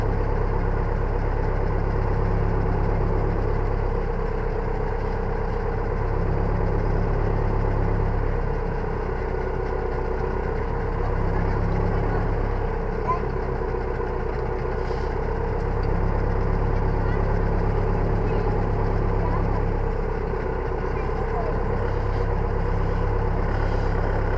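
A tractor engine runs steadily while planting potatoes in a field, a loud, close, continuous low diesel drone with slight variations in load and no speech.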